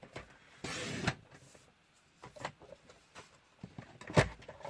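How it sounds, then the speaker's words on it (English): Card stock is cut in half during card making: a brief scraping swipe, then softer scattered taps and paper-handling noises nearby. "So now we can cut the card into half."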